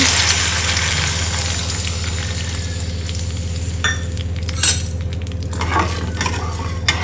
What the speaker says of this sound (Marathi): आणि पाणी घालते त्याच्यामध्ये